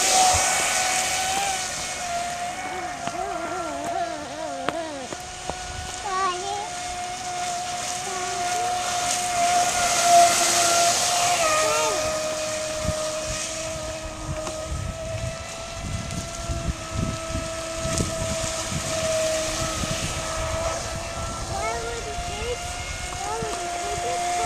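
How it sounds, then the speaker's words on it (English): A Traxxas Spartan 6S RC motorboat's small motor whines steadily on the water with a rising and falling pitch, accompanied by light wind and occasional voices nearby. "Here comes the boat."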